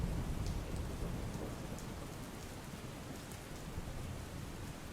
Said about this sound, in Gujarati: મુંબઈમાં છેલ્લા 6 કલાકની અંદર 12 ઇંચ જેટલો વરસાદ ખાબક્યો છે